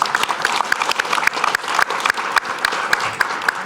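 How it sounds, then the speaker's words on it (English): An audience at a Napa Valley wine tasting seminar breaks into steady applause, many hands clapping densely for several seconds, fairly close and even. "Give her a round of applause."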